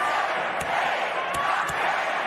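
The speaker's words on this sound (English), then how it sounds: "Raucous crowd" A raucous arena crowd at a SmackDown wrestling match featuring Drew McIntyre, Sheamus, LA Knight, Xavier Woods and Kross, a steady loud roar with a few sharp slams or cries standing out above the din.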